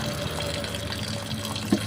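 Tap water runs steadily over fresh prawns, freshly caught from a lake in Mindoro, rinsing in a strainer, a continuous close splashing stream with a brief louder splash near the end.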